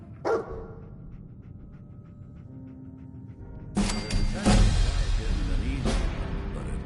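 A dog in the video game Fallout 4 gives short, sharp barks and yips amid game sounds and low background rumble, a few loud bursts spread across several seconds.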